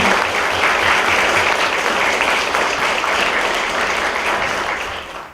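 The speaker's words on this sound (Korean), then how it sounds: "큰 박수로 맞아주시기 바랍니다" Dense, sustained applause from an audience at a health forum on antibiotic-resistant bacteria, welcoming a lawmaker onto the stage; loud and even, fading out in the last moment.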